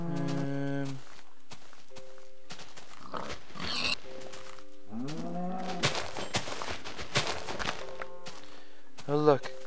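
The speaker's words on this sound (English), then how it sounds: "Cow." Farm animal calls in the video game Minecraft, including a low moo-like cow call and other livestock grunts, over soft footsteps and game sounds, with brief tonal jingles.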